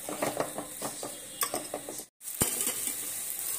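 A spoon stirring soya chunk paratha filling with tomato ketchup in a pan, soft repeated scraping and clicking strokes at close range, with a short silent gap before the stirring resumes.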